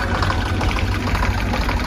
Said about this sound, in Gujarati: કાળુભા ટ્રેક્ટર ચલાવે છે